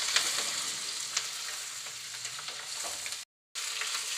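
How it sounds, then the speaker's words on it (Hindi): Green chillies frying in a pan give a loud, dense, crackling sizzle that runs steadily with a few sharper pops, cut off for a moment near the end before resuming, with no voices. "और अब इन मिर्चों को मुझे थोड़ा सा इसमें फ्राई करना है"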